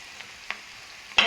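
Egg bhurji sautés in oil with onion and spices, giving a faint, steady sizzle broken by a few soft scrapes of stirring and one sharper clack near the end.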